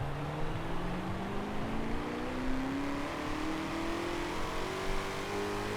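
A 2020 Shelby GT500 accelerates hard in Forza Horizon 4, its engine note climbing steadily in pitch through a gear and roaring loud and close throughout.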